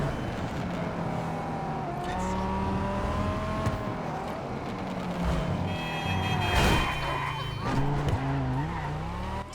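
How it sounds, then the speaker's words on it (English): A racing car engine in the video game GTA 5 Online, a Buffalo EVX, drops through the gears, pitch stepping down with a brief burst of revving and tire noise, loud and continuous. "listen to the sounds of this thing when you downshift"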